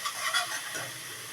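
Onion paste frying and being stirred in a pan, giving a steady close sizzle with soft scraping bursts near the start.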